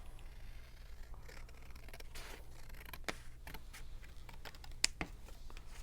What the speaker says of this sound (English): So what I'm going to do is just trim off an edge.